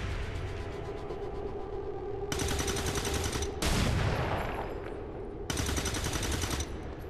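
Automatic gunfire in the video game XCOM 2, two long sustained bursts separated by a sharp whooshing blast, loud and close over a steady low game ambience.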